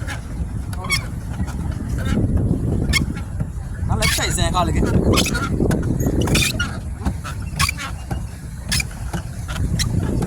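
Ducks quack and honk around a paddle boat on a park lake in Colombo's Vihara Mahadevi Park, with repeated calls mixing into steady water and pedalling noise while people talk nearby.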